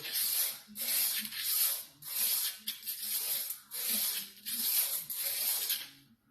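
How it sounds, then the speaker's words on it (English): Rusty drum brake shoes from a 1970–71 N600 being sanded by hand with 80 grit sandpaper; close, rhythmic rasping strokes in repeated bursts of about a second, each separated by short pauses. "So I'm going to use some 80 grit. And I'm going to rotate the shoe"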